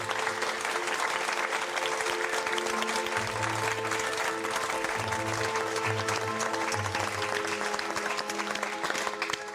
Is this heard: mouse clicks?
no